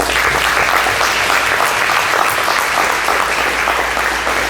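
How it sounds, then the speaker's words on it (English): Audience applause for the panelists after a panel discussion, a dense, loud, even wash of clapping that carries on steadily without a break. "Let's continue giving our panelists a quick round of applause, please."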